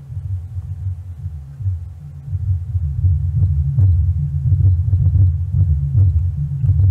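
A Miller & Kreisel MK MX-90 subwoofer plays a low rumble test signal, a loud, deep throbbing hum that pulses and swells steadily, heard alone with no voices.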